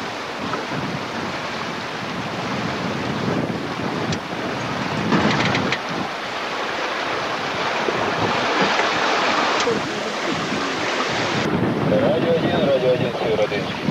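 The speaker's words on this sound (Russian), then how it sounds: "И опять крепкий попутный, но теперь уже северный ветер возле мыса Зимнегорский." Strong northerly tailwind while sailing in the White Sea near Cape Zimnegorsky, a blustery roar of wind buffeting the microphone over washing sea waves around the boat, loud and continuous with sudden gusts.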